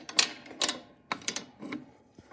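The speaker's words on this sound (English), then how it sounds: "you can use the wrench here to tighten it a few last turns" A wrench tightens a roller on an Elite Series dough sheeter, giving about five sharp metallic clicks and ratchet-like taps in quick uneven bursts, close and fairly quiet.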